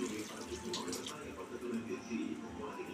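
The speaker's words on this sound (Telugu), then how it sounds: "కొద్దిసేపు ఇలా ఫ్రై అయిన తర్వాత దీనిలో వాటర్ పోసుకోవాలి." Water pours and splashes steadily into a pan of frying masala gravy with bottle gourd, tomato and chana dal, a faint continuous rushing and sizzling close by.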